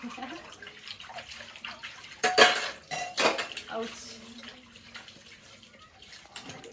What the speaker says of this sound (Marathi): ताई कितीतरी वर्षाने आज भांडे घासत असतात